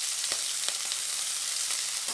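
Chopped onions and green chillies with cumin fry in hot oil for samosa filling, a steady close sizzle with a few soft stirring knocks and no talking.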